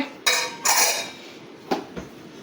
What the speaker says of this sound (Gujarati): બસ બસ હવે આપણે મિક્સ કરી લઈએ